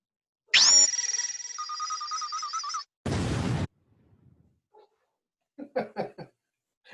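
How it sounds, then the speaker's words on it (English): A Star Wars-style plasma cannon effect: a sustained, bright electronic tone with a wavering pitch, then a short, harsh noisy burst, followed by a few faint, choppy sounds after it. "Oh, that is a Star Wars plasma cannon, sir."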